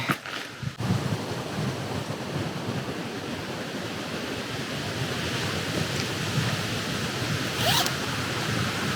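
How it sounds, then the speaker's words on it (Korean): Strong wind blasts across Myeongseongsan mountain in Pocheon in summer, a loud, continuous roar buffeting the microphone throughout with no talk over it. "바람 진짜 많이 불어요"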